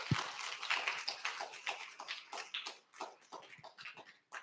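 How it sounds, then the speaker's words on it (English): An audience applauds as panelists step onto the stage at a rule-of-law conference session, a moderate, fairly distant patter of hand claps that thins out unevenly toward the end. "Let's give them a round of applause."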